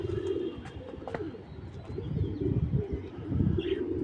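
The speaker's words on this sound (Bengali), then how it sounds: "যে সব কবুতর বাইরে বাইরে করতেছে" Several pigeons, including a red checker pair at a home loft, coo nearby in low rolling bursts, with scattered chirps and faint wing flutters in a quiet setting.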